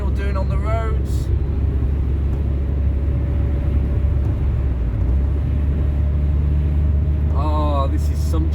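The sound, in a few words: 1.6 S series car engine and gearbox bellowing while driving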